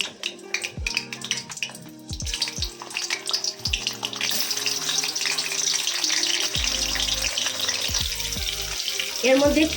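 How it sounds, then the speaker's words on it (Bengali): Partly boiled potatoes dropped into hot oil, a low sizzle that swells into a loud, continuous frying hiss after a few seconds, preceded by scattered knocks and pan clatter. "তেলটা একটু গরম হলে আলুটা দিয়ে দেবো"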